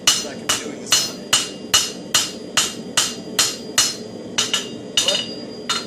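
A hammer forges steel on an anvil while shaping an herb chopper, with a steady run of about a dozen loud ringing blows at even intervals, each leaving a short metallic ring, close and with no talking.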